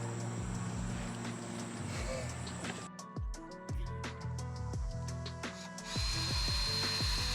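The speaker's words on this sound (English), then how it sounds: "here all I'm doing is drilling in the middle of the area that will be cut out" A power drill bites into the metal panel of a Sprinter van, with a whining motor in bursts, sharp scraping and clicking noises in between, and the drilling picking up again at the end, close by.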